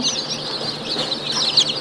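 A group of pure desi chicken chicks peeps nearby in a dense, high, overlapping chorus of chirps that stays lively and fairly loud throughout.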